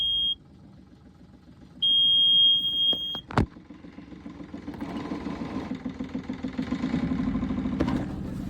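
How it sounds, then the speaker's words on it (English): Electronic beeps sound, a sharp click follows, then a boat engine cranks and catches into a rhythmic, pulsing idle that grows steadily louder. "with an engine on a boat. You basically you turn the key on and push start."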